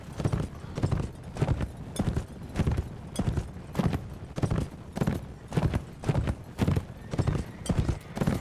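Massed cavalry horses gallop in the video game Mount & Blade: With Fire and Sword, with dense, continuous rhythmic hoofbeats that stay loud and close throughout.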